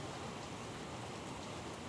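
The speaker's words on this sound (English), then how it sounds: "can you hear that raining?" Rain falls outside an open screen door, a steady soft hiss of drops on surfaces, faint and even with no other sounds.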